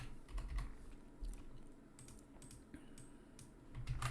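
Quiet bursts of typing on a computer keyboard while entering text in InDesign, scattered clusters of soft key clicks with short pauses between them, close and faint with no talking.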